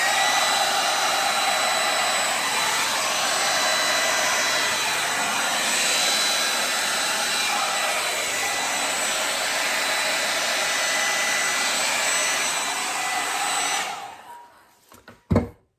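A hair dryer set to high roars steadily and loudly for a long stretch, blowing across fluid art paint, then cuts off abruptly near the end with a couple of small knocks.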